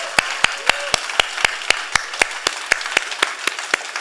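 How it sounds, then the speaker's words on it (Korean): Church congregation clapping in steady unison at a worship service, a rhythmic series of about twenty evenly spaced, crisp claps with faint murmuring beneath. "우리 수고한 팀원들에게 다시 한번 박수 또 하겠습니다."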